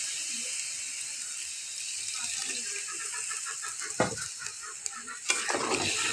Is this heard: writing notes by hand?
no